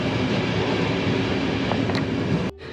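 Narrow gauge train on the line to Bansko pulling into a station, a steady loud rumble and clatter of the wagons that cuts off abruptly near the end, with no talking.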